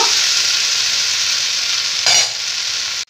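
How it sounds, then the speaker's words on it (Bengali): Okra and potatoes fry in a pan, a steady close sizzle that runs continuously, swells briefly with a stir near the end, then cuts off abruptly. "এই মাঝে আমি বসিয়ে দিয়েছি রান্না, ঢ্যাঁড়স আলু ভাজা বসিয়ে দিয়েছি সকালে টিফিনের জন্য।"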